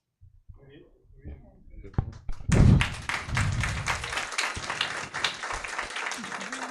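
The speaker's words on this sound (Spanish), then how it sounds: "creo que este es el aplauso para esas 4 intervenciones" An audience at a university careers event breaks into applause after four talks. The clapping swells suddenly after a few soft taps and thuds and continues steadily to the end.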